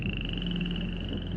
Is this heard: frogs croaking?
yes